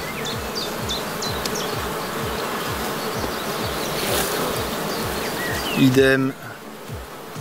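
Honeybees hum steadily and close throughout at an opened beehive while supers are checked, a dense continuous buzz with a few brief louder passes; a voice speaks briefly near the end over the swarm.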